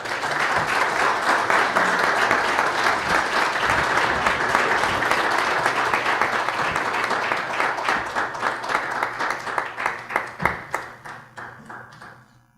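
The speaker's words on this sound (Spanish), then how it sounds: "Un fuerte aplauso." An audience at an award ceremony applauds, a dense, steady burst of clapping that thins into scattered claps and fades out near the end.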